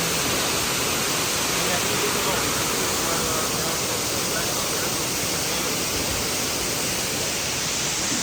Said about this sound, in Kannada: ನೋಡಿ ಫಾಲ್ಸ್ ಎಷ್ಟು ಬ್ಯೂಟಿಫುಲ್ ಆಗಿದೆ